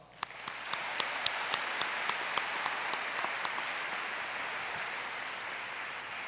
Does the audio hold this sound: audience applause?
yes